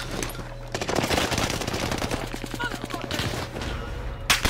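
Bursts of automatic gunfire crackle through a battle-royale shooter match, rapid volleys rattling over a steady game soundscape with a louder crack near the end.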